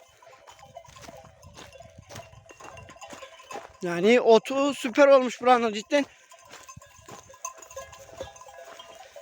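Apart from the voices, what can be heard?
sheep grazing in a village pasture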